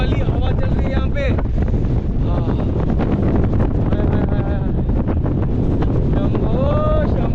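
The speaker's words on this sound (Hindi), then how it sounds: "आहा क्या मस्त ठंडी वाली हवा चल रही है यहाँ पे।" Strong, cool wind buffets the microphone beside a very broad river in the Bharmour area on a Manimahesh cycling trip, roaring continuously with gusty low rumble while someone speaks over it throughout.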